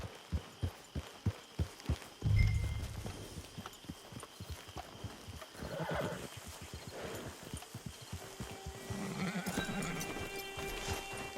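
Horse hooves in the Red Dead Redemption 2 video game, an evenly paced clip-clop that turns into a rumbling trot, with a soft snort and faint speech in the background.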